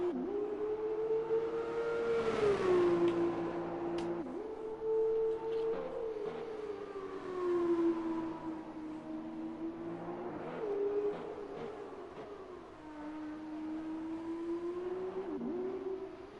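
A single F2 race car laps a simulated Brazil circuit in a racing video game, its engine droning steadily with rising and falling pitch through gear changes, heard alone at moderate level without talk.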